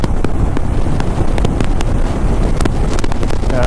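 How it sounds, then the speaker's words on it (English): Loud, steady buffeting wind roars across the microphone while riding a motorcycle in afternoon commuter traffic, a dense continuous rumble with scattered sharp pops throughout. "Oh, the wind!"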